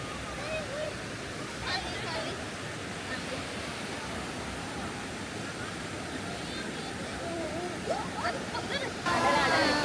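Bopath Ella waterfall in Sri Lanka pours as a steady, full rush of falling water, with a few voices talking faintly beneath the constant roar.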